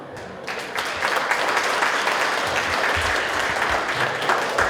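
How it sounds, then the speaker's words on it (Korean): Steady, loud applause from a crowd at a hometown association's annual general meeting and year-end evening, swelling after a quiet start and holding dense and continuous. "힘찬 박수로서 화답하여 주시길 바라겠습니다"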